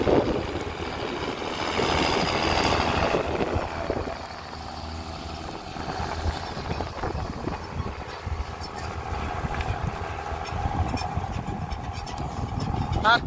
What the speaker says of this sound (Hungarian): És a hangja fenomenális. A 6 hengeres, 6-8-as motor van benne.